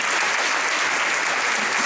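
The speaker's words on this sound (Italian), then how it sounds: "Un applauso." Dense, steady applause from an audience at the final awards ceremony of the Premio Giorgione 2024, filling the whole moment evenly at close range with no pauses.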